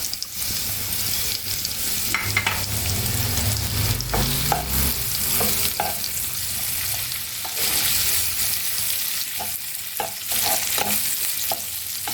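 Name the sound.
chopped onion frying in hot oil for prawn curry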